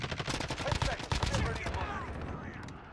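Rapid automatic fire from an AN-94 rifle in Call of Duty: Modern Warfare, a dense, loud burst of close gunshots over the first half that then trails off into fading echoes.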